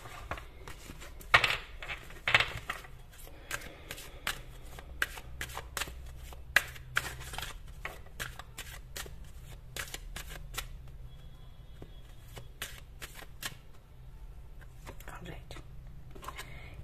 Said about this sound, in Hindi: चलिए दो कार्ड्स निकालते हैं